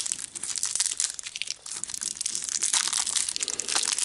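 A pack of Pokémon energy cards is torn open by hand, a close, continuous crinkling and ripping of foil wrapper with sharp crunchy bursts.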